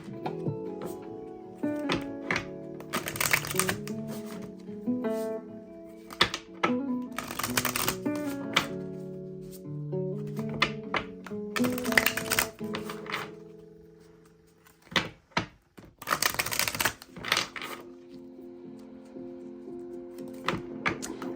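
Tarot cards are shuffled by hand in repeated bursts of crisp riffling and flapping, with short pauses between rounds, close and fairly quiet over a soft background of music tones.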